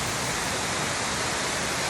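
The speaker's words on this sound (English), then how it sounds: "this waterfall is one of many waterfalls that occur on the Cumberland Plateau" Steady, dense rush of a waterfall pouring off the Cumberland Plateau in the southern Appalachian Mountains of Tennessee, a loud continuous hiss with no breaks or voices.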